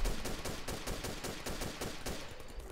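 Steady automatic gunfire in the zombie shooter Codename CURE, a fast regular burst of about a dozen evenly spaced shots, loud and close with no talk over it.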